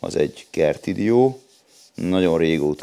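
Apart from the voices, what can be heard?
No everyday noises stand out.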